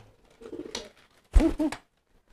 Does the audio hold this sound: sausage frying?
no